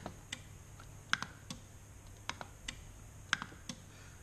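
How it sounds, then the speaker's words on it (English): A GE Z-Wave wall switch gives a sharp paddle click and then a relay click a moment later, small dry ticks repeated twice over a quiet room background. "you'll hear a definite click of the paddle, and then you'll hear the click of the relay a moment later"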